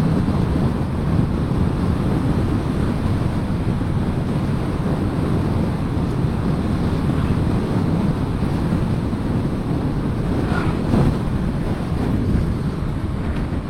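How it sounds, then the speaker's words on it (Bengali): Strong wind roars over the microphone during a motorbike ride on Marine Drive from Cox's Bazar toward Teknaf, a loud, continuous buffeting rumble that never lets up. "আর বাতাস, প্রচুর বাতাস।"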